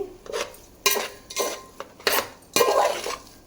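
A spoon scrapes and clinks against a pot while masala rice is stirred with salt and chilli over medium flame, giving several close, rhythmic metallic strokes.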